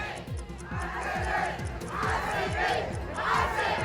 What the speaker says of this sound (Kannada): ಆರ್ಸಿಬಿ ಗೆಲುವಿಗಾಗಿ ವಿದ್ಯಾರ್ಥಿಗಳು ಜೈಕಾರ ಹಾಕಿದ್ದಾರೆ.